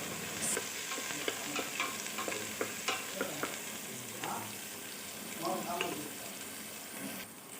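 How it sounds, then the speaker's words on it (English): Chopped onions sauté in hot sesame oil, a close, steady sizzle broken by repeated spatula scrapes and clicks against the pan, with a brief splash of running water near the end. "Add 2 tablespoons of sesame oil, heat oil, then add chopped onions"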